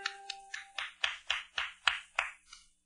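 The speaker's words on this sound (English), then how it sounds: "Why the applause, sailor?" A single person claps slowly after a calypso song, about nine distinct, close, evenly spaced claps in a quiet room, the last one trailing off.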